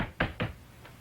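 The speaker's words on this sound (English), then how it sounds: "Knock on wood." Three quick knocks on wood, two close, solid raps followed by a fainter third one, in a quiet room during a sitcom scene.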